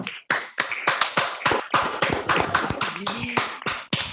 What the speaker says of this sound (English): I would request to give the thunderous round of applause to the panelist and the moderator.